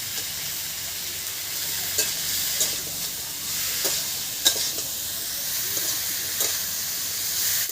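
Ginger, garlic and onion paste frying in a pan with vetki fish bones, giving a continuous hissing sizzle broken by occasional utensil scrapes and taps as it is stirred, close by and without speech.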